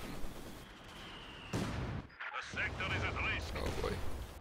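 Infantry support gun artillery fire in a strategy video game match: a couple of sharp, booming blasts over continuous battle rumble, with a commentator talking throughout.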